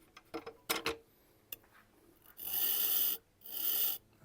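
A knife edge is ground on its bevel against a Tormek sharpening wheel, giving two sustained, rasping hiss passes of a few seconds each, preceded by scattered light clicks and taps.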